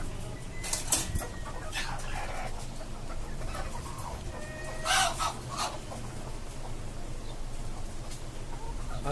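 Native desi chickens on a rooftop farm, with scattered clucks and short calls rising over steady ambient noise, a few louder bursts near the start and middle, faint and intermittent elsewhere.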